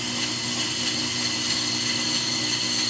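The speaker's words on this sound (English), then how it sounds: "we can just cut back and forth until we have a rotor that we like" A brake lathe cuts a pricey brake rotor, giving off a steady, loud mechanical whirring hum with tonal motor drone and a faint high-pitched cutting whine, unbroken throughout.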